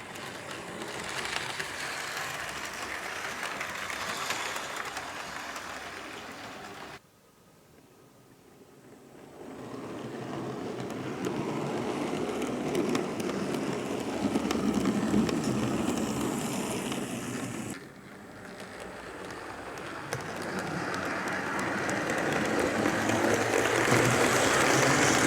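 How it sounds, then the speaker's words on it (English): A Hornby model O2 tank locomotive pulls carriages along a layout track, a continuous rumbling and clattering that fades twice as the train passes further away and then returns, with no voices. "These O2 tanks can pull these carriages quite easily,"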